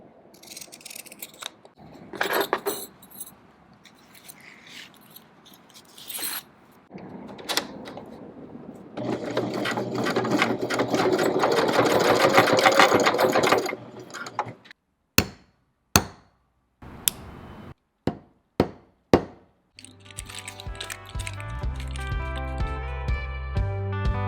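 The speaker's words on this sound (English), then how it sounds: "This pattern tends to bunch, so I have to sew it a different way." A sewing machine stitches a strap pattern in a Detroit strap workshop, running in a sustained whir for several seconds, then a series of sharp snips and clacks and a rhythmic mechanical pattern near the end.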